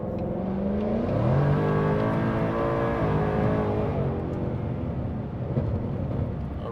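Supercharged 5.0 V8 of a 2020 Mustang GT accelerating hard at wide open throttle, a loud close engine roar with rising pitch through the gears and a steady whining sweep, no talk over it.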